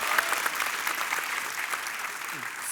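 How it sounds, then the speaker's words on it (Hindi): A live television studio audience claps steadily and loudly throughout, a dense wash of hands with a voice briefly audible over it. "तालियां चौबे जी।"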